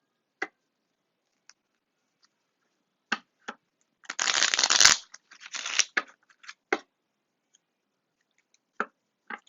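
A deck of reading cards is shuffled quietly on its own: scattered soft taps and flicks, then one dense riffle burst lasting about a second, followed by a few more isolated card clicks.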